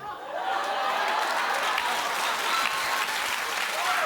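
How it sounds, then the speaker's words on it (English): Studio audience applause on an American daytime talk show, a thick continuous wash of clapping from a large crowd, steady and fairly loud, with faint chuckles mixed in. "Keep clapping, everybody."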